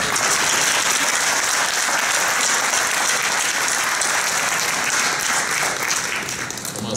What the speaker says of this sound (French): j'aimerais ça que tout le monde se joigne à moi pour applaudir nos diplômés de ce soir